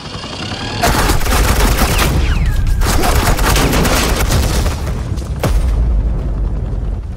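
Suppressing fire in Batman Telltale season 2, sustained rapid automatic gunfire with dense overlapping shots, loud and close, broken by a brief pause near the end.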